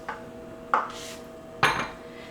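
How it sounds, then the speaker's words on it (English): Liquid ingredients being stirred into granola in a bowl give three separate clinks and scrapes of a utensil against the bowl, spaced about a second apart, close and fairly quiet. "So we're going to stir this up really well,"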